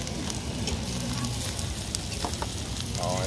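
Shellfish sizzle and crackle steadily on a hot plate at a Kanchanaburi restaurant, a close, continuous frying hiss with faint background noise.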